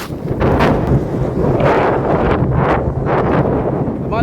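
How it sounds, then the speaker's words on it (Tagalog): Strong gusting wind after a freezing-rain ice storm roars steadily across the microphone in deep rumbling buffets, with surging gusts and no voices. "Malakas na yung hangin"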